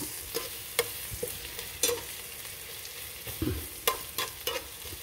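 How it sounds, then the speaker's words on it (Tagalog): Onions being stirred as they fry in a pan for chicken afritada: a steady close sizzle with several sharp scraping and clinking strokes of the spoon against the pan, no voices. "Haluin natin para sabay-sabay na maluto."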